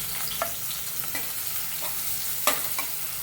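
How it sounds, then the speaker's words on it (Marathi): Finely chopped onion fries with garlic in a hot pan, a dense, close sizzle broken by a few scraping stirs of a spatula, with no voices over the cooking. "त्यामध्ये बारीक चिरलेला कांदा आहे तो आपण फ्राय करून घेऊया"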